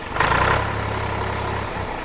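A Swaraj 855 tractor engine revs hard, a loud, close diesel roar with a rising burst at first, then settling into a steady, rumbling high idle.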